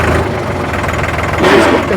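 New Holland 3630 Super Plus tractor diesel engine running in second gear, a steady close-up chugging rumble with a brief swell in loudness near the end.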